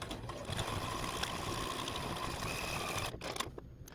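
A sewing machine hums in a steady, fast stitching whir as it sews a fringe-style pattern along the base of a quilted curtain, close and continuous before slowing and stopping near the end.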